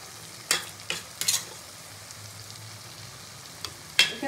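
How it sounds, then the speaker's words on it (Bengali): Masala with ground cashew paste cooks in a pan under a soft, low sizzle, with a few sharp spoon scrapes and taps scattered across the stretch. "বেশ পুরো মশলাটা খুব ভালো করে কষিয়ে নেব"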